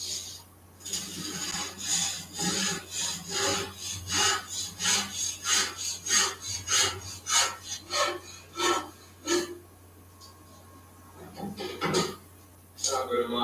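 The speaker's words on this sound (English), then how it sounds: "Make sure your work is secure before you start to saw." A handsaw cuts through wood in a steady series of back-and-forth rasping strokes, close and fairly loud, with a short pause and a few final strokes at the end.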